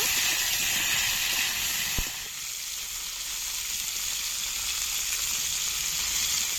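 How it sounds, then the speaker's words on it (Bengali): Cauliflower fries with salt and turmeric in a pan, giving off a steady, even sizzling hiss with a single sharp tap early on, then a continuous moderate frying sound with no voices. "লবণ হলুদ গুঁড়ো ভালো করে ভেজে নেব"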